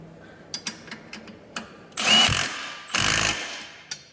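A nut on a Jeep Wrangler JK shock is tightened with a power tool: scattered metallic clicks, then two short whirring bursts of about half a second each, close and fairly loud.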